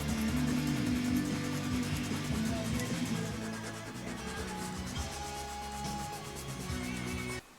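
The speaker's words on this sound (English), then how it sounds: "I wasn't particularly happy how the sanding was going." Steady close-up sanding of a plastic model starship nacelle part, a continuous abrasive scratching that eases slightly partway through before stopping abruptly.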